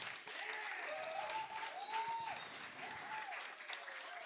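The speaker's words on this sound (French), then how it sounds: "on les applaudit pour leur" Audience applause fills a small venue at a show, a continuous patter of clapping with voices and a sung or shouted tone drifting over it.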